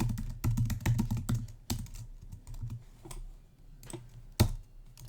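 Bursts of typing on a computer keyboard, quick irregular key clicks in clusters separated by short pauses, close and fairly quiet with no voices.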